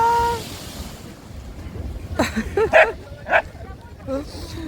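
Ocean waves wash onto the shore at Odesa in winter, a broad steady surf wash under scattered voices and a dog barking a few times nearby.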